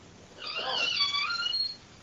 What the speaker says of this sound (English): As soon as it sees me sit down in my office, it starts meowing at me.